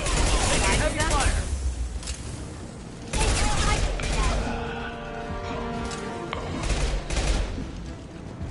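Heavy gunfire in the Mass Effect video game, with bursts of fusillade-like shots in two loud stretches, mixed with booms and game effects over a steady background.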